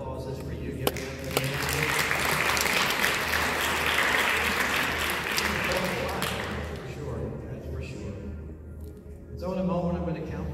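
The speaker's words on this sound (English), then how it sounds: "This round of applause is for you." After a hypnotism show, an audience claps in a sustained burst of dense applause that fades out after about eight seconds. A voice speaks over the end.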